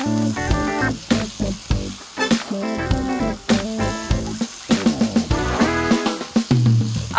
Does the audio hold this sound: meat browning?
yes